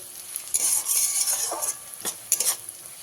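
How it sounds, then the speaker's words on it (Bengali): Onions sizzle and fry in a pan while being stirred, with scraping and clinking of a utensil against the metal in irregular bursts, close and fairly loud, no voices. "পেঁয়াজটাকে খুব ভালো করে লাল করে ভেজে নিতে হবে"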